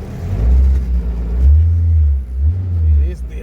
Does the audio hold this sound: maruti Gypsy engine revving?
yes